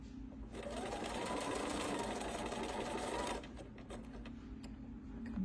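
A sewing machine stitches a straight quilting seam in one fast, steady whir of about three seconds, then stops, leaving quiet handling sounds.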